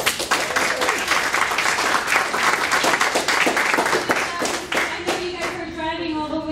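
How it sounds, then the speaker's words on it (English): Audience at a young men's event in Houston applauds the parents, a dense, loud burst of clapping throughout, with a voice rising over it near the end. "So let's have an applause for you all as well."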